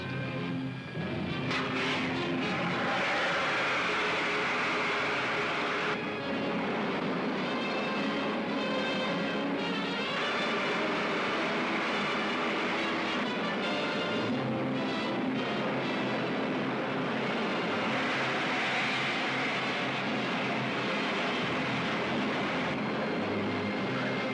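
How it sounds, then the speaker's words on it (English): Roaring rocket ship firing its main jets in a 1953 sci-fi serial, a loud steady rushing blast that holds throughout with shifting surges and rumble, no voices. "Fire pilot jets. Firing main jets."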